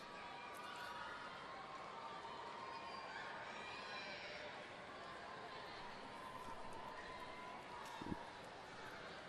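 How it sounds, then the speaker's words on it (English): Schoolchildren cheer and chatter from the stands at a world men's curling championship match between Sweden and Denmark, a steady distant crowd wash running throughout beneath a commentator's voice. "There you see some of the school children here this morning, cheering for all sorts of teams."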